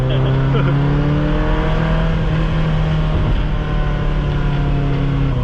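A loud, continuous Ferrari engine drones at high revs, its pitch wavering slightly, with a voice faintly underneath.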